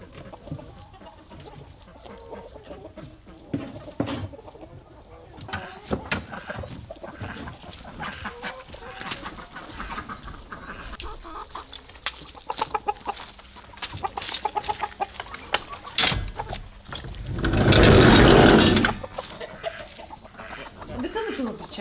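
Laying hens cluck and mutter inside a chicken coop during cleaning. Scattered close clucks continue throughout, with a louder burst of rustling or flapping near the end, and some faint human voices mixed in.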